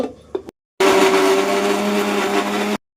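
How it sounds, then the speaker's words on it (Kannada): An electric mixer grinder runs in one steady burst of about two seconds, coarsely grinding tomatoes for mushroom biryani, loud and close after a brief quiet moment. "ನಾನು ಮಿಕ್ಸಿಗೆ ಒಂದು ದಪ್ಪಗೆ 1 ರೌಂಡು ರುಬ್ಕೊಟ್ಟು"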